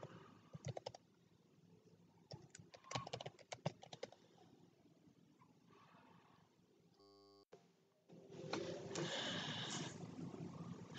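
Clusters of crisp computer keyboard key presses tap close to the microphone, a few quick clicks at a time with quiet gaps, before a steady hiss of noise takes over near the end.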